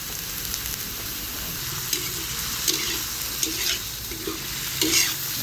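Pak choy stir-fried in a wok with a splash of water and vinegar, a steady close sizzle with intermittent scraping stirs and clanks of the utensil.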